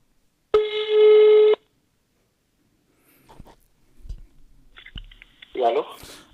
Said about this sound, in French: Donc, on va appeler cet homme. Le numéro passe par ici.